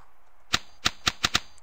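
Five sharp, close clicks of a computer keyboard spacebar during Kerbal Space Program play, coming in an uneven quick series over a quiet background with no talking.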